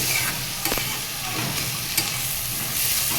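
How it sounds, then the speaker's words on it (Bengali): Yardlong beans being stirred as they fry in a pan, a continuous hiss of sizzling broken by a couple of clear spatula knocks against the metal, close and without talk. "এটাকে ভালোভাবে নেড়ে চেড়ে মিশিয়ে ঢাকা দিয়ে দেবো"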